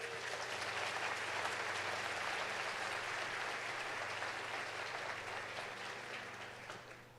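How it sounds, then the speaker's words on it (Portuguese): A church congregation applauds in a large hall, a steady wash of clapping that fades slightly toward the end over a low electrical hum. "Agora você pode aplaudir Jesus."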